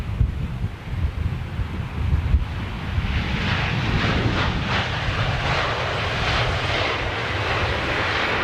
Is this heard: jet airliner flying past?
yes